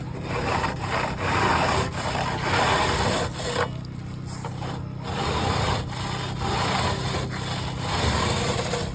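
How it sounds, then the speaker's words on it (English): Rasp scraping the cut edge of a concrete block smooth, repeated gritty back-and-forth strokes with a brief pause, close and steady, no talking. "Then we'll just rasp it clean and make it a nice clean edge."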